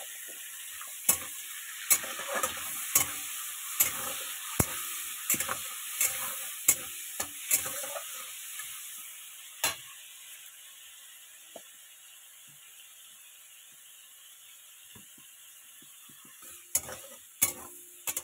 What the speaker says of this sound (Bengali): পুঁই শাকে চিংড়ি মাছ দেবো, তো সেইগুলো একটু ভেজে নেবো। একটু হলুদ দিয়ে দিলাম।